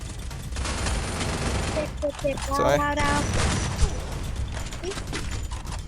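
Rapid bursts of gunfire and mechanical weapon clatter in the battle-royale mobile game Free Fire crackle repeatedly at close range, mixed with excited players talking over the shooting.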